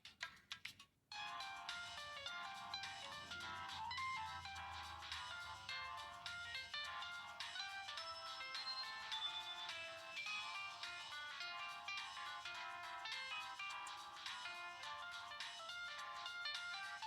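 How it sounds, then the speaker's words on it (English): A ringtone from an LG G2 mini phone plays loud and steady for about sixteen seconds as a bright, continuous melodic tune, starting after a brief click and short pause, with no talking. "This one was my mom's ringtone."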